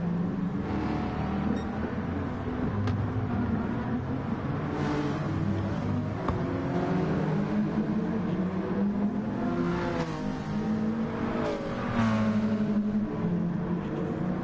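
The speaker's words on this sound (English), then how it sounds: "the Alfa Romeo in the slipstream on this back straight, the fastest section of the circuit" Alfa Romeo touring race cars run the back straight at Tsukuba circuit, their engines a loud, continuous droning roar that rises and shifts in pitch as they accelerate.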